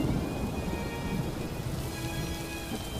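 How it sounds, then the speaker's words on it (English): Rain pours in an animated show, a steady dense hiss that runs the whole way through, with faint sustained music tones beneath it. "Of course it's raining."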